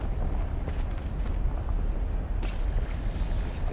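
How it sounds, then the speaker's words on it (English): Low, steady rumbling explosion in the video game Horizon Zero Dawn, with a sharper bright burst partway through and a rough roar continuing after it, with no voices. "An explosion."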